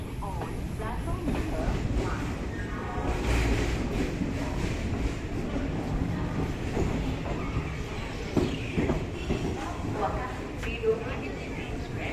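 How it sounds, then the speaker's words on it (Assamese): A passenger train running on rails in Assam, heading toward Tinsukia past tea gardens, with a steady dense rumble and rattling clatter heard from inside the carriage, loud and continuous throughout, with a voice talking over it. "এতিয়ালৈকে আমাৰ তিনিচুকীয়া যাত্ৰা অব্যাহত আছে ট্ৰেইনত"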